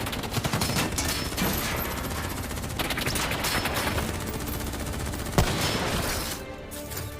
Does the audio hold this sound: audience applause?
no